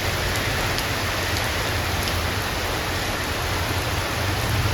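Heavy rain pours steadily in a waterlogged yard near a canal, a dense, even hiss without a break from start to finish, with no talking.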